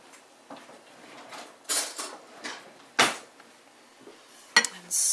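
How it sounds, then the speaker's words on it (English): A spoon is picked up beside a marinara sauce jar in a kitchen, with a few scattered metallic clinks and taps of cutlery against dishes, close by with quiet gaps between them. "let me grab a spoon"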